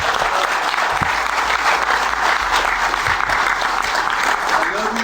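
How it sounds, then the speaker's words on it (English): Loud, continuous audience applause in a crowded hall during a motivational speech to a college football coach and team, thick steady clapping with a few low thumps underneath. "Let's clap it up."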